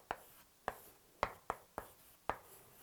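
Brush writing cursive calligraphy, six short sharp taps and strokes spaced irregularly, close and quiet against a near-silent background.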